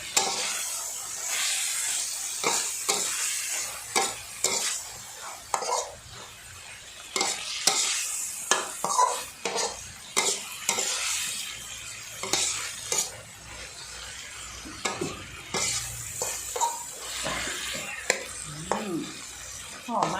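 Okra stir-fried with holy basil in a pan: loud, busy sizzling with frequent spatula scrapes and metallic clatter against the pan, rising and falling in bursts over a long stretch.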